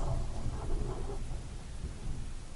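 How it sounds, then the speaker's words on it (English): Thunder rumbles steadily as a low, rolling roar, with rain hiss underneath, continuous and fairly loud throughout with no talking. "Oh, that's a lot of thunder."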